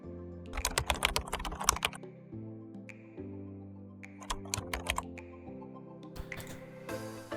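Fingers type on a computer keyboard in quick bursts of clicky keystrokes separated by short pauses, close and fairly quiet, over a steady low musical drone.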